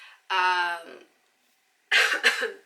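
Someone clears their throat close up: a short voiced rasp, a brief pause, then a harsher, breathy cough-like clearing.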